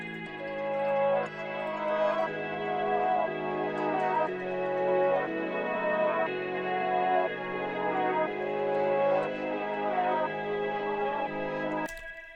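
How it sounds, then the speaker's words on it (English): A soft, ambient guitar preset from the Plug Gaze sample bank plays a slow melodic chord progression with reverb-washed sustained notes, steady and alone, ending on a brief sharp click. "I found this guitar preset which sounds like this"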